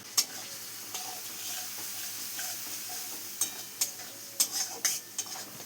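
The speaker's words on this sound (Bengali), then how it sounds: "তারপর আমি একটু নেড়ে নিচ্ছি।" Potatoes being stirred in a pan with cumin, coriander and turmeric powder for aloo dum, a soft background sizzle under scattered spoon scrapes and clinks that cluster toward the end, close and moderately quiet, no talking.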